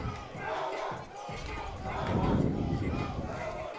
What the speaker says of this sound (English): Can hear the Wahoo section cheering for their team, followed by our boys student section cheering on the girls.